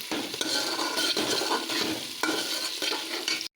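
Rice being stirred into fried masala in a pan for fried rice, a busy close sizzle with rhythmic scraping and tossing strokes every half second or so, ending abruptly.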